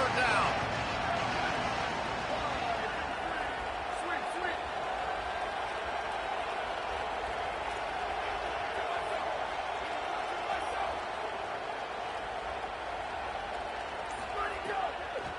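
Crowd roar at a Texas Tech college football game on third down, a steady, dense wash of stadium noise throughout, with a commentator talking over it.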